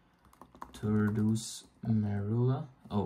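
A computer keyboard clacks during a terminal-based restore while downgrading an A9/A10 iOS device, with scattered key clicks mostly under a person's nearby talking.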